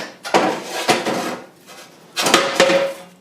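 A cast iron 16-inch domestic fire grate set down into a homemade waste oil stove built from a cut propane tank, giving two clusters of heavy metallic clanks and scrapes, close and loud with a brief ringing tone.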